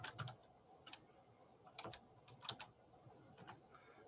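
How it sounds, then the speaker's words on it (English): Fingers tap out a short, uneven burst of keystrokes on a computer keyboard, quiet and close, with small clusters of clicks and brief gaps between them. "I just cannot type today."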